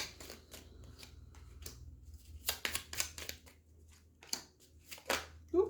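Oracle cards shuffled and drawn by hand, a series of quick papery riffles and slides in uneven bursts, close and fairly soft.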